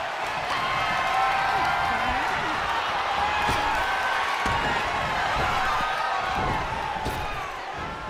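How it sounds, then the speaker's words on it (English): Arena crowd cheering and roaring in the WWE 2K24 wrestling game during a women's battle royal, a steady loud wash of cheers with thuds from the ring and commentary talking over it. "Cargill drawing a big reaction from the crowd."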